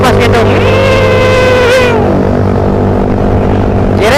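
Close, loud fan-like whirring from a running Suzuki Satria FU motorcycle engine, with a gliding tone that bends up and down before settling into a steady drone.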